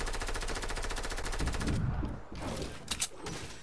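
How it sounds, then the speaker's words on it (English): Rapid automatic gunfire from the Fortnite video game rattles loud and continuous for about two seconds, then gives way to scattered thuds and a couple of sharp pops. "People shooting."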